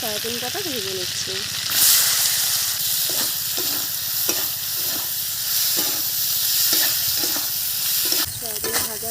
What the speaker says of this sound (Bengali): এবারে সয়াবিন কটা ভেজে নিচ্ছি।